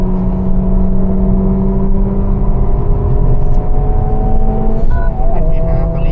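Honda Civic Type R accelerating hard on a race track, its engine note climbing in steady rising tones through the gears, loud and close, with a brief shift near the end before pulling again.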